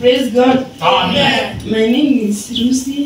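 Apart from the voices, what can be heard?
None of the usual background noises is heard.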